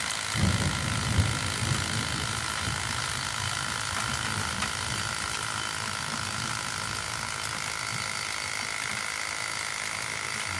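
An Ingco 1050 W rotary hammer whines and grinds continuously at close range, drilling into a river stone, a steady mechanical buzz with no pauses.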